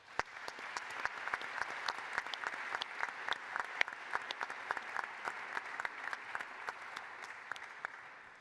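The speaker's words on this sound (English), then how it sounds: "I want to thank the panelists and give them a round of applause altogether" An audience claps steadily for panelists at an autonomous weapons systems conference in Vienna, with dense, even applause lasting throughout and no voices rising above it.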